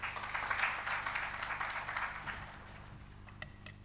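A round of applause from the audience at the inauguration of a cyber security congress in Delhi, fairly faint clapping that swells briefly and then tapers off over about four seconds, leaving a few scattered claps.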